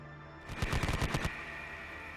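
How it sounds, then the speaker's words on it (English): Heavy machine gun fire as a sound effect, a short rapid burst of about eight loud close shots over under a second, then a fading tail. "Firing with their heavy machine guns here."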